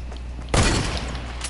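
Gunfire in a shooting video game: a single sharp, loud blast erupts after a quiet moment and decays quickly into a faint rumble.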